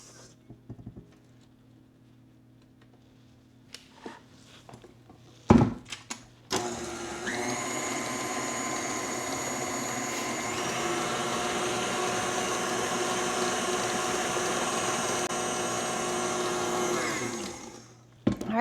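Electric hand mixer beating cookie dough on setting 4, a steady loud whir held for about eleven seconds after a brief clatter, then winding down; no talking.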